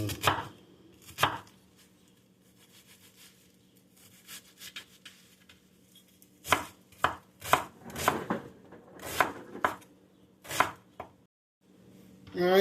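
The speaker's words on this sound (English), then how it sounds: "breaking down my onions. I'm doing about half of it. My favorite knife." Onions being chopped with a knife on a cutting board, bursts of quick close thuds and rapid runs of chops separated by short pauses.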